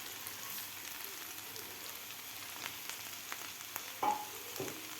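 Amaranth leaves fry in a pan, giving a faint, steady sizzle with soft stirring scrapes and a brief louder clink near the end, quiet and without speech.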